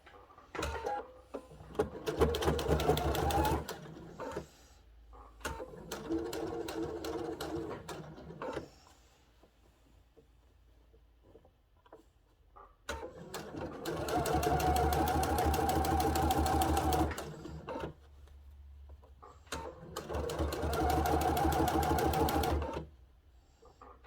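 A sewing machine stitches fabric for a cathedral window quilt panel in several bursts of rapid, even mechanical whirring, separated by brief pauses and lighter handling sounds.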